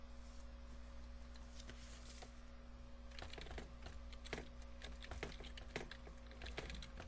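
Computer keyboard keys clatter as Python code is typed, in an irregular run of close clicks that gets busier in the second half, over a steady electrical hum.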